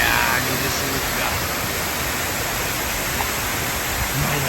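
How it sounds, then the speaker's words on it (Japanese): Oshinkoshin waterfall in Hokkaido in summer, a loud, steady broadband roar of falling and splashing water that fills the whole moment without pause, with faint talk underneath. "おしんこしんの滝、滝に涼しげる。 いやー、水しぶきが"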